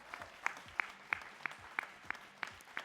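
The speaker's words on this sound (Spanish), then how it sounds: "Un aplauso, por favor." Faint, sparse applause from a small studio audience at a televised debate, a handful of evenly spaced sharp claps over about three seconds against quiet room noise.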